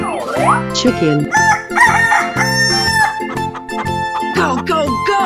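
A rooster crows loudly in a 3D animal slide video game, a drawn-out cock-a-doodle-doo followed by clucking calls, all laid over continuous game music.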